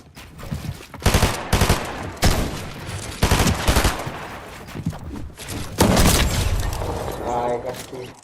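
Rapid bursts of gunfire from a Fortnite match at the FNCS Finals crack out in several loud clusters, with a commentator's voice talking over the shots.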